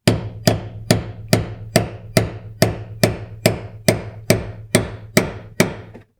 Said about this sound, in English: usually the easiest way to take these off is just to hammer them around